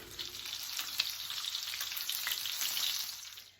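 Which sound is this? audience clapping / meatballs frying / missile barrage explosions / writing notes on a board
meatballs frying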